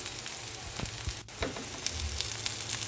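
Garlic and onion sautéing in a pan for ginisang ampalaya, a steady close sizzle with a few stirring scrapes and brief clatters, no voices.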